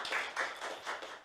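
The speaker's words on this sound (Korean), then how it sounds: "예, 박수 한번 크게 쳐주세요." An audience at a human rights forum on disability and COVID-19 claps after a presentation, giving several soft rhythmic bursts of applause. The sound is moderately faint and steady, with no voices.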